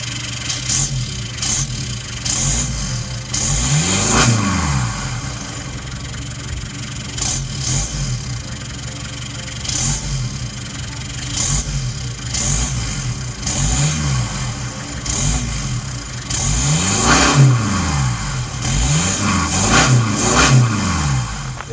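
A truck engine idling with a low rumble, then revving up and dropping back several times, with the louder surges toward the end.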